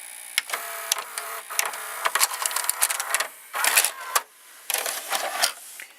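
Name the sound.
VCR mechanism ejecting a cassette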